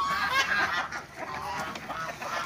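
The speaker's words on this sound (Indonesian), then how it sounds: "Jadi semua ayam kita kasih makan sore." Chickens squawk and cackle in a busy, continuous chorus, close and fairly loud, with overlapping calls throughout.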